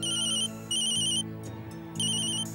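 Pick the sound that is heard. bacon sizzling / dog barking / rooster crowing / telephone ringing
telephone ringing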